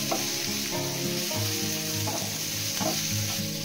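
Turmeric and red chilli powder sizzle in hot oil in a pan with bottle gourd while a spoon stirs them, giving a continuous close hiss with rhythmic scraping strokes.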